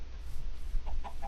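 Chickens in a video game cluck a few times, with short, clear clucks close by over a low background hum.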